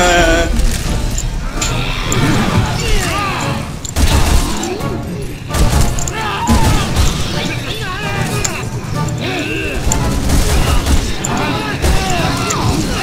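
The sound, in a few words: gunfire in a video game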